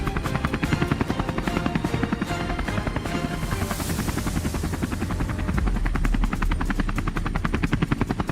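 A compact helicopter flies nearby in a boar-hunting game, its rotor chopping in a rapid, steady loud thump that holds throughout.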